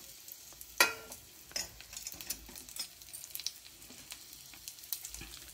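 Radish (mullangi) pieces dropped into hot oil in a kadai, a faint sizzle with soft clinks and stirring scrapes, one sharper knock early on.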